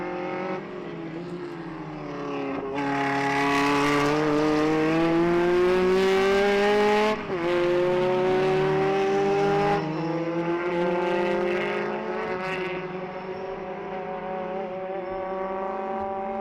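Classic race cars at the Jarama circuit pass close by with loud, sustained engine roar. The pitch climbs through gear changes and keeps going without a break.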